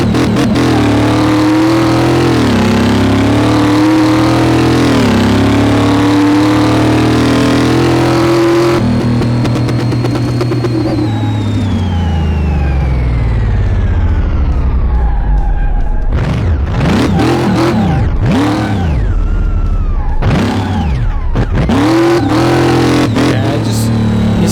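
A 1964 Impala SS 409 in Car Mechanic Simulator 2018 revs hard, then launches from the brake and peels out, engine pitch climbing through shifts with tire squeal, loud and continuous.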